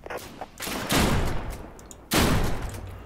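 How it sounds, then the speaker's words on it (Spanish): Two heavy bursts of gunfire aimed at the player in the Deadside survival shooter, each a loud, sustained volley about a second long, with faint scattered shots in between and no voices. "uno de esos güeyes me está disparando desde la otra zona"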